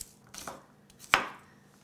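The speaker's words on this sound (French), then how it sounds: "j'hache, mais vraiment grossièrement" A knife chops jumbo garlic cloves coarsely on a board, giving a few crisp, close chops with one sharp loud strike near the end in an otherwise quiet kitchen.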